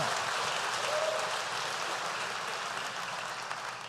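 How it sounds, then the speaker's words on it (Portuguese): A church congregation gives a round of applause, heard as a soft, even wash of many hands clapping at a distance, slowly tapering off. "Dá uma salva de palmas ao Senhor"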